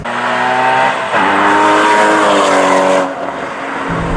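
Porsche Cayman GT4 driven hard, its engine revving loud and close with rising pitch, a gear change dropping the tone before it climbs again, then the note falls away as it lifts off.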